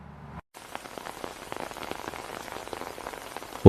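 Steady rain patters close by on a hard surface, a dense, even hiss of drops that starts after a brief gap and continues alone without any voices.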